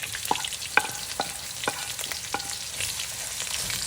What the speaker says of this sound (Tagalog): Sasangkotsahin lang natin ang ating sibuyas, bawang at luya.